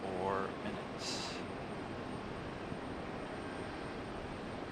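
A jet airliner taking off from Raleigh-Durham International Airport gives a broad, steady engine roar at a distance, while people talk nearby.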